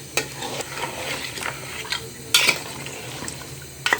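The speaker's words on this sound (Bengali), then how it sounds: "ভালো করে মিক্স করব।" Beef nihari is stirred in a pot, a spoon scraping and clinking against the metal in irregular strokes over a soft simmering sizzle, with a couple of sharper knocks and no voices.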